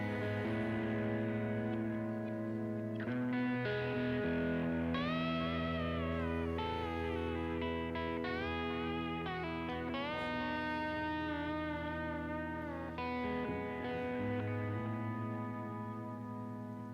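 Electric guitar played through a Fender Tonemaster Super Reverb 4x10 amp, sustained chords and melodic lines washed in lush reverb and pulsing tremolo, loud and continuous with no talking.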